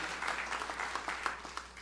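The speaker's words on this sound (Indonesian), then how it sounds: "Sorak-sorai tepuk tangannya paling meriah buat Yesus." Steady crowd applause with dense, continuous clapping, moderately loud throughout, no voices on top.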